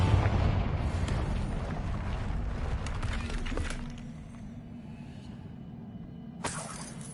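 Fiery Confringo blast spell in Hogwarts Legacy, a loud rumbling explosion that fills the first few seconds, then settles into a low lingering rumble before a brief crackling burst near the end.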